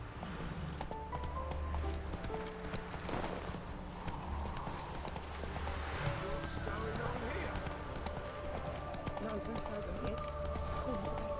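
Roach, Geralt's horse in The Witcher 3, gallops with a steady clip-clop of hooves beneath game music and ambient tones, while voices talk over it.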